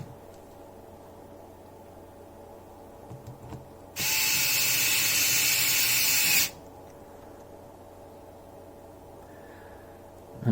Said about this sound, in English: Get these bottom screws in.